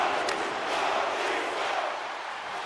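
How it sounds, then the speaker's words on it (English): A dense arena crowd in a hockey video game roars and boos steadily throughout, a continuous wash of massed voices with no pauses. "the crowd is frustrated, and they're booing every time he touches the puck"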